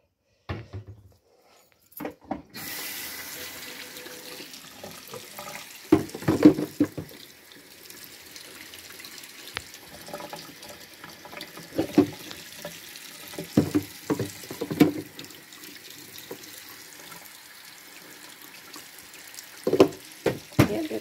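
Tap water running into a kitchen sink at home, a steady splashing flow with clinks and knocks of dishes breaking through at intervals.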